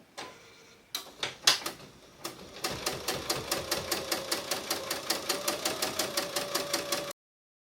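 A domestic sewing machine stitches fabric for a bowl cozy, starting with a few separate bursts and then settling into a fast, even run of rhythmic mechanical clatter, close and alone, stopping abruptly.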